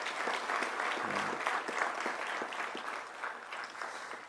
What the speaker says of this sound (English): Let's give all of our professional staff and all of our ranking officers a big round of applause for their achievement today.